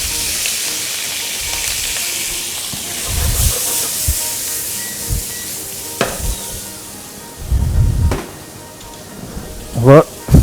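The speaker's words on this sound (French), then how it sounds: "on va faire revenir nos champignons avec l'oignon" Sliced mushrooms and onions sauté in a hot pan, giving a steady bright sizzle with occasional clatters of stirring and utensil knocks, continuous and close.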